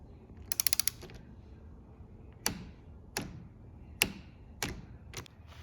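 Torque wrench tightening the clip-on handlebar bolts on a Honda CB650R, with a quick burst of ratcheting clicks followed by several separate sharp metallic clicks, close and fairly quiet.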